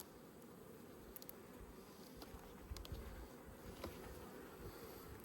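Bees hum in a low, steady buzz around a hive, faint and continuous with no voices, occasionally rising slightly as individual insects pass nearby.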